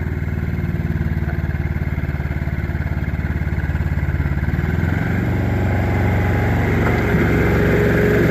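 An Isuzu diesel engine on a 3-in-1 farm loader truck runs steadily with a low chugging rumble and mechanical clatter, loud and close throughout, with no talking.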